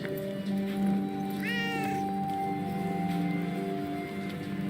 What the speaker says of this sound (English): I have a strange feeling that cat wants us to follow it.